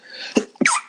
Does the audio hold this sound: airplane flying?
no